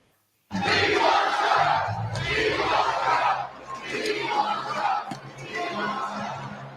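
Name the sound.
lively rally crowd in Manchester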